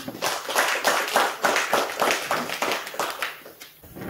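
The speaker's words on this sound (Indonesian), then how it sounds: "Mari kita beri aplaus buat Ibu Kadis dulu." A small audience applauding at a talk on organic and inorganic waste management at a tourist destination, a brisk rhythmic round of claps at close range lasting about four seconds and thinning out at the end.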